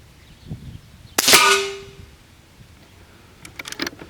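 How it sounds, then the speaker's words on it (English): A single loud, close shot from an Air Venturi Avenger .25 caliber air rifle firing a JSB pellet, a sharp crack with a ringing decay, followed by faint clicks and handling noise, with no talk. "shooting the top target on the left"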